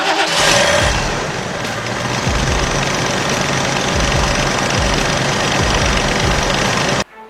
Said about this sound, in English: let's have our friend crank the engine again while we watch our testers